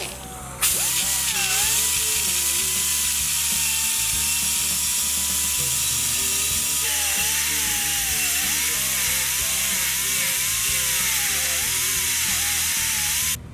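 An angle grinder working a metal part for a bulldog build, a loud sustained whine with a wavering pitch as the load shifts, running steadily close up with no talking.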